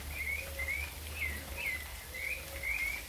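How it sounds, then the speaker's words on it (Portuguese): Distant thrushes and pigeons whistle and chirp in short repeated phrases over a low background rumble, fairly faint and evenly spaced. "Aqui tem som de pássaros, sabiás, pombos."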